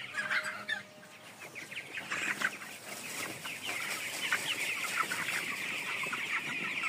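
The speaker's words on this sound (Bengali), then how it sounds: "শেডটির মুরগিগুলোর বয়স হচ্ছে 18 দিন।" Eighteen-day-old broiler chickens cluck and chirp together in a poultry shed, a dense, continuous flock chatter with no talking over it.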